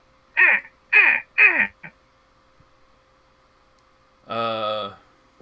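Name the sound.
crow cawing, sound effect in a tabletop role-playing session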